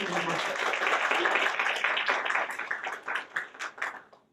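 An audience at a student government awards ceremony applauds the nominees, a full wash of clapping that thins out into a few scattered individual claps toward the end.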